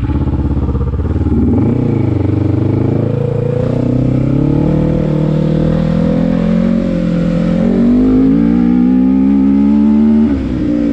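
A quad ATV engine roars loud and close as the rider accelerates, its pitch climbing and dipping through the gears in a continuous drone with some mechanical clatter.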